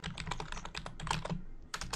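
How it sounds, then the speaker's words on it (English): Computer keyboard keys clack in a quick, uneven typing rhythm, close and fairly loud, with a brief pause before the keystrokes resume. "My keyboard clacking in the background."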